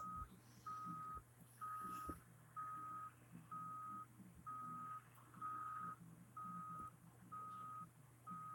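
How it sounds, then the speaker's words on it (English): A truck in the BeamNG.drive video game backs up, its reversing alarm giving about nine evenly spaced, steady beeps over a low continuous engine hum. "It's going to do this beeping sound because we're backing it up."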